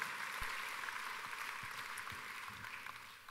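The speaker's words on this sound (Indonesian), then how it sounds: "tepuk tangannya yang paling meriah buat Yesus Tuhan kita" A church congregation applauds during a worship sermon, a steady wash of many hands clapping at moderate distance, continuous for several seconds with no voices over it.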